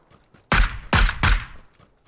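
Gunfire from the battle royale shooter PUBG: three heavy, booming shots close together, each with a short tail, fired alone with only faint background noise between them.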